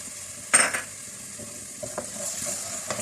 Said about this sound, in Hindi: टोमेटो प्यूरी के साथ इसको थोड़ा सा भूनेंगे।